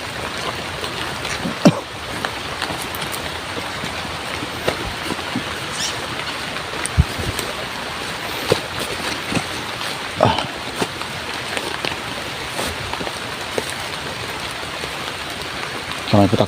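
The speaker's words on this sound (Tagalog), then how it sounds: "dahil sa lakas ng ulan" Heavy rain pours in a dense, continuous hiss that holds steady throughout, with a few scattered louder knocks and drips against it.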